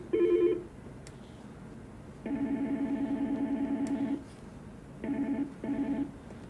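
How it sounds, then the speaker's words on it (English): Electronic ringtone previews from a Yealink T41/T42 desk phone play in short bursts: a brief trill, a longer warbling ring, then two quick chirps, clear and close with no talking. "here you can select different versions of ringtones"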